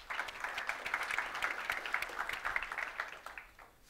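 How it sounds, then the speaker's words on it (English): Audience applause at a tech conference talk on API and cell-based architectures, a steady round of clapping from a crowd that fades out after about three and a half seconds. "Big round of applause to Flash."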